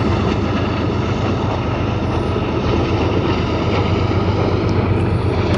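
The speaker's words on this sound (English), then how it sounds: "Train way down there." A train far below a high vantage point gives a steady, broad rumbling roar mixed with wind buffeting the microphone, continuous and without talk.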